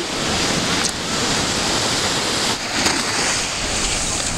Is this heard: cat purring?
no